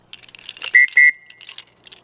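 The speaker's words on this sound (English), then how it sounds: "They always say, oh, we never go in the bush without a whistle." A small survival whistle sounds two short, shrill blasts in quick succession, then a fainter trailing tone, set among light clinks and rattles of small odds and ends.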